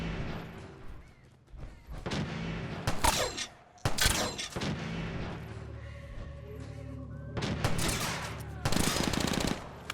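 Gunfire in the game Fallout 4 crackles in several loud bursts of rapid shots, separated by brief lulls, with booming reports and faint background ambience.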